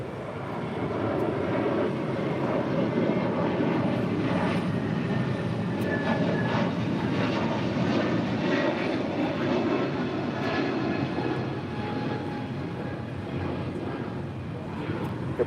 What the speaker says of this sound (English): That is JetBlue 524 departing to JFK on an A321 Neo.